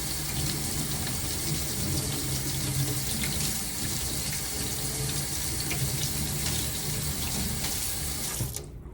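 Tap water running steadily into a sink while soap is rinsed out of a paint brush's bristles, a close continuous splashing rush that cuts off abruptly at the end, no talk.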